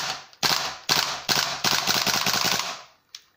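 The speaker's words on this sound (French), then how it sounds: "On peut faire des double taps vraiment super. Rafale 2." A tan KWA Kriss Vector airsoft gas blowback rifle fires in quick bursts, a rapid series of loud, close, snappy pops in short strings, then a single last shot after a pause.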